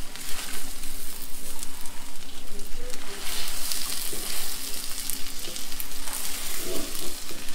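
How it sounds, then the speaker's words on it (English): Shrimp frying for Pad Thai, a steady loud sizzle with crackling and occasional stirring clinks, continuous throughout with no talking. "See, the shrimp is cooking more."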